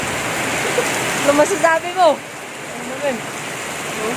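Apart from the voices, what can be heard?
heavy rain pouring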